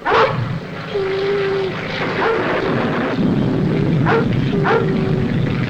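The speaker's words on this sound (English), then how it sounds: "Didn't I hear 2 dogs barking?" A dog barks a few times in sharp bursts, fairly close, over steady background noise and a faint droning hum.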